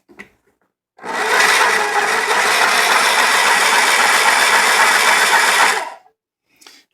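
A spiral tap cutting gear teeth at 13 threads per inch drives a steady, loud mechanical whir for about five seconds, starting and stopping abruptly, with quiet bumps before and after.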